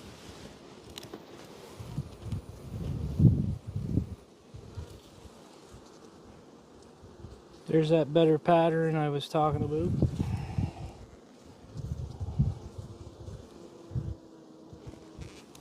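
Honey bee drones on the comb make a soft insect buzz in the background while someone talks at length, with a louder buzzing burst in the middle.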